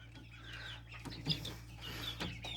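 Five-day-old bronze turkey poults chirp and peep close by in a brooder, with a steady low hum underneath the scattered high calls.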